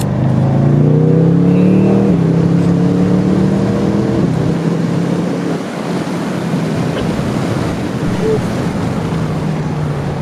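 A Alfa Romeo Giulia Quadrifoglio on its factory exhaust accelerates along a road. A loud engine note rises in pitch and then settles into a sustained roar mixed with heavy wind rush, with no talking.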